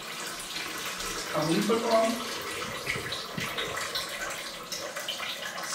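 Water is poured off rinsed rice into a kitchen sink while a vegan chickpea-mango curry is being made, a steady running splash lasting several seconds as people talk over it.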